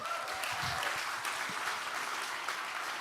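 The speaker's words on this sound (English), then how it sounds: "Yeah, round of applause, everyone." Audience applause at a live behavioural-science conference stage event, a steady wash of many hands clapping at moderate level, with a brief low voice murmur partway through.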